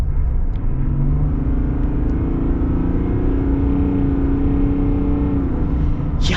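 A 2023 Chevy Silverado 1500 High Country with the LZ0 Duramax diesel accelerates, heard from inside as a steady loud engine rumble and drone whose pitch rises gradually, with no talk over it.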